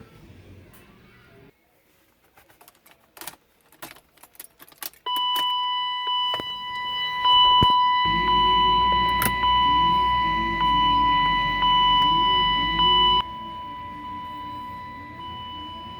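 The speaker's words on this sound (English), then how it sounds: "Sorry about that beeping sound." A steady high electronic beeping tone sounds alongside the idling engine hum of a BMW 325i with a headlight fuse fault, after a stretch of scattered clicks and clunks.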